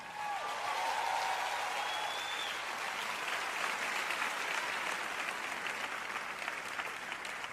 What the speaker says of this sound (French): Allez, applaudissez plus fort que ça.